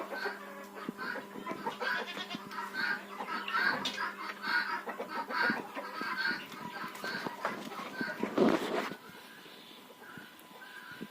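Hens and a rooster cluck and chatter around a backyard poultry yard, with frequent overlapping calls close by and a brief louder burst near the end; no talking.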